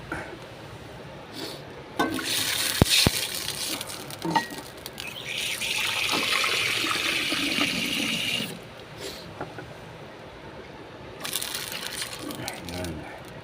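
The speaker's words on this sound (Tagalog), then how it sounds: "Pagkulo dyan, ilalagay ko ng" Galunggong fish going into a pot of boiling water broth for sarciado, giving a splashy, bubbling rush that builds in the middle and then settles back to a low simmer.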